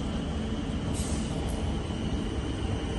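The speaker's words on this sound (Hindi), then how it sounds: "ये ट्रेन है यहाँ की।" A train at Bhamra main railway station rumbles steadily and close throughout, a broad continuous roar with a brief hiss of brakes or air near the middle and no talk.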